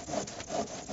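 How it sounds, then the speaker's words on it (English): A regular handsaw cuts through an ICF foam filler block in steady back-and-forth strokes, close and moderately loud, with a rasping scrape on each pass. "A regular handsaw can do the job."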